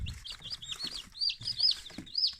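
Newly hatched chicks in an incubator peep in quick, high, repeated chirps, several close together and moderately loud, with soft low rustling beneath them.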